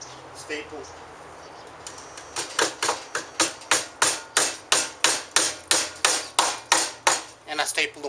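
Repeated sharp hammer strikes driving staples over electrical cable into wood, in a steady, fairly quick rhythm, about a dozen blows close by, after a quieter start.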